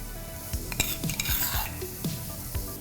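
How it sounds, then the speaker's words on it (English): Finely chopped red onions with crushed chilies and garlic sizzle loudly in hot oil, broken by several sharp spoon knocks and scrapes against the pan, close and continuous with no talk. "Once the oil heats up, I'm going to begin adding red onions, which are finely chopped."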